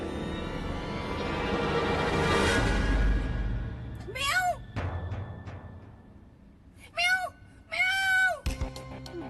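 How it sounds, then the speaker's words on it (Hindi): A cat meows three times in drawn-out, rising-and-falling cries, close by, from under a bed indoors, following a stretch of low rumbling noise. "बिल्ली?"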